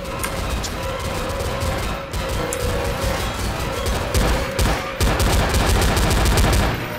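Rapid gunfire fills a Garry's Mod horror map, loud and continuous, with bursts of shots packed together over seven seconds and no clear pauses.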